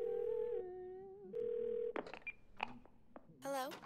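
Telephone keypad tones from a phone being dialed in the video game 12 Minutes, a string of clear electronic beeps and steady tones followed by a clicking connection sound, loud and close with no talk over it.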